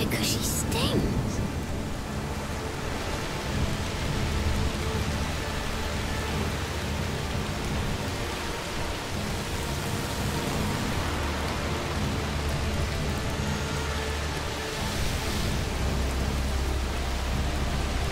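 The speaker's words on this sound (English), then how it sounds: "Sea Scorpion could use the rain to escape." Steady heavy rain pours throughout a scene in the video game A Plague Tale: Requiem, a dense continuous hiss with faint rumbling beneath and voices now and then over it.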